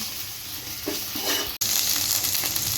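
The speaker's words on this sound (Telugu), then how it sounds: "తర్వాత పచ్చిమిర్చి కట్ చేసి పచ్చిమిర్చి వేసుకున్నాము వాటిని కూడా ఇలా వేపుకోవాలి" Green chillies sizzle and fry in oil in a pan alongside ginger-garlic paste while egg biryani is prepared, a steady close hiss with a brief dropout midway.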